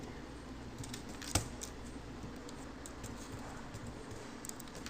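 Quiet, rapid keystrokes on a computer keyboard while typing code, with one sharper click early and a steady light patter over a low background hum.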